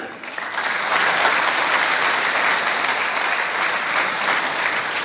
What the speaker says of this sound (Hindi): ऐसी बात पे आप भी ताली बजा रहे थे